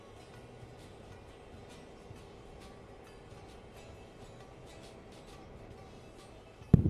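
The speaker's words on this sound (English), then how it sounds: "I can very much assure you that your train is in fact moving." A train rolls along in a modded video game, a faint, steady rumble with light periodic clicks from the wheels, ending in a sudden loud bump.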